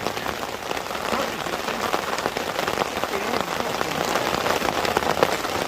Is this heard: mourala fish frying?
no